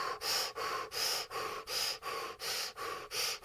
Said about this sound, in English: Deep breaths in and out all together now.